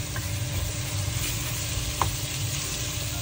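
Aromatics such as onions sautéing in a pan give a steady, soft sizzle that hisses evenly throughout, with one faint clink partway through and no talking.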